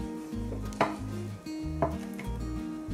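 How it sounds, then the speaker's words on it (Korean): Firm, evenly spaced knife strokes slicing tofu on a cutting board, each thunk sharp and close while preparing a pork and tofu stew, with a low steady hum beneath. "두부를 썰어 보겠습니다."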